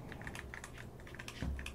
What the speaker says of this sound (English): This is our custom designed grading keyboard made in the Swiss Alps